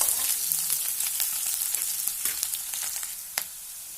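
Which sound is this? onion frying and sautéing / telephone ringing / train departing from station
onion frying and sautéing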